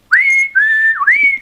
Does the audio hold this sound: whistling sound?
yes